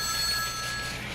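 Telephone ringing at a newspaper city desk in a radio drama, a steady, loud, close electric bell ring lasting the whole brief moment with no talk.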